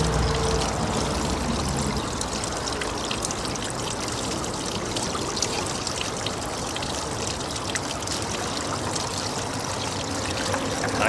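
Water runs steadily through a Gold Genie spiral gold concentrator wheel, a close, continuous pouring trickle and splash at an even level for the whole stretch, with no talking.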